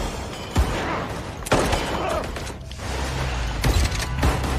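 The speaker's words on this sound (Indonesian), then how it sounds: "terjadi baku tembak" Gunfight in a film: a few sharp, isolated gunshots spaced across a few seconds, with mechanical clatter and rumbling background between the shots, no clear speech.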